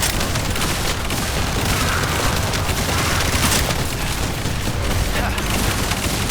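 Drone explosion in the shooter game The First Descendant, dense, continuous booming and gunfire-like blasts filling the whole span at a steady high level, with no clear break between detonations.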